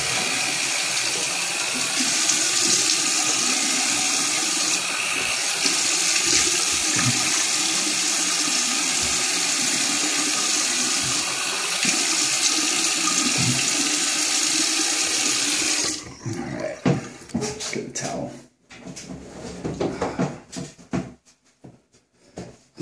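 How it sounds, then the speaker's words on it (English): Water runs steadily from a bathroom tap for about fifteen seconds, a loud continuous rush, then gives way to uneven splashes as cold water is scooped and rinsed over the face after shaving. "rinse your face with cold water"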